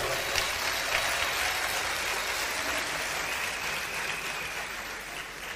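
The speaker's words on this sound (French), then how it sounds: "M. Modeste Bahati, qu'on peut applaudir très fort" An audience in a hall, welcoming dignitaries at a political address, gives a sustained, fairly distant wash of applause that stays even and slowly eases off.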